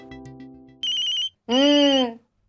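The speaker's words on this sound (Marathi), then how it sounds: "कोणाचा फोन आहे गेलं ती?" A phone ringtone plays indoors as a tonal melodic chime in two distinct bursts separated by a short gap, loud and clear, preceded by a softer musical passage.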